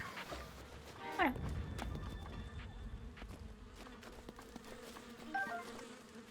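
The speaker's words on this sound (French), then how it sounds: "Une abeille." Bee buzzing in The Legend of Zelda: Breath of the Wild, a faint game buzz under background noise with a brief rising whine early on and a short flutter near the end.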